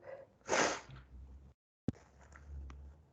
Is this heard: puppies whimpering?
no